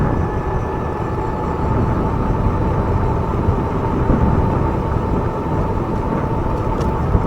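A Haoqi Cheetah full-suspension electric bike ridden at full throttle, heard as a steady close rush of wind and rolling noise with a faint motor whine underneath.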